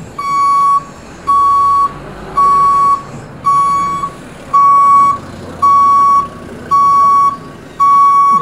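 Loud, steady reversing beeper on a Daewoo Damas van, eight evenly spaced electronic beeps of about a second each, with short gaps between them, heard up close with no other sound over them.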